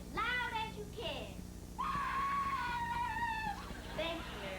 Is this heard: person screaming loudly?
yes